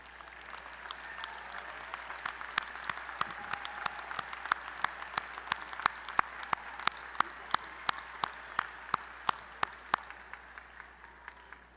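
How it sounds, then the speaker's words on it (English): Faint applause in a large hall at a December 2017 Lamar University College of Arts & Sciences commencement, with sharp individual claps ringing out at a steady rhythm above a soft, distant bed of clapping. "Will the grandparents of our candidates please stand and receive our applause?"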